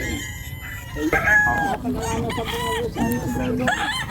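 Roosters at a gamefarm crow repeatedly, several calls overlapping and answering one another at close range, with clucking fowl in the background.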